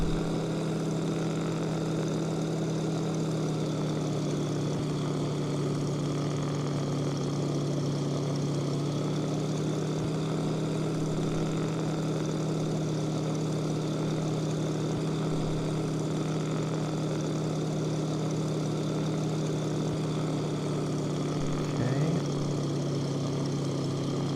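Steady propeller engine drone of a Yakovlev Yak-18T in the X-Plane 11 flight simulator, a continuous even hum with a strong low tone throughout, unchanging and alone with no voices.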